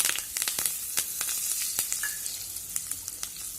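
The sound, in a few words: red chilies and turmeric frying in hot oil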